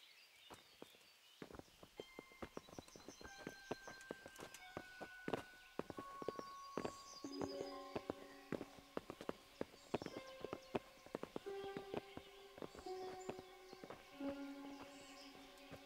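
Horses clip-clop in the medieval game Kingdom Come: Deliverance, a steady run of hoof hits under busy ambience and scattered tones, moderately close, with no talk over them.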